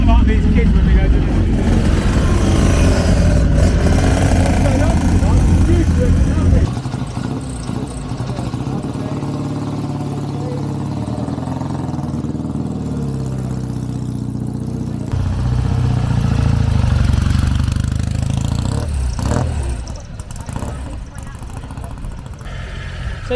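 A Triumph motorcycle engine at a factory bike night revs loudly and rough for several seconds, then settles to a lower idle-like rumble before swelling again, with crowd chatter underneath.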